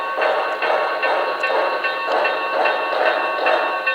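Paragon 2 Y6B model locomotive running along its track, a steady mechanical whir with faint repeating rail clicks at a moderate, even rhythm, close and continuous with no talking.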